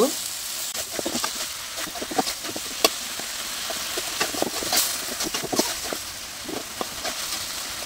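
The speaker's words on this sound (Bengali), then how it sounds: "অনবরত নাড়াচাড়া করে একদম শুকনা শুকনা করে নেব।" Taro flowers frying with dried fish in a pan, a steady close sizzle with repeated sharp ticks and scrapes from constant stirring, and no talk over it.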